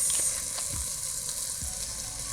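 Spiced rice with chili sauce, black pepper and garam masala frying in a pan, a steady close sizzle with faint stirring scrapes and no talk.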